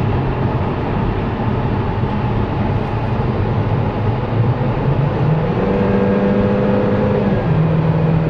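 Highway traffic on Route 91, a continuous loud roar and whir of passing vehicles, heard close and without talk.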